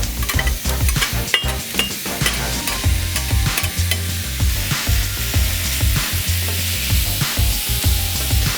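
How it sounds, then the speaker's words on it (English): Minced beef sizzling and frying on a hot plancha, a steady loud crackle with repeated scraping and stirring strokes from a spatula throughout. "So we'll start grilling with our minced beef."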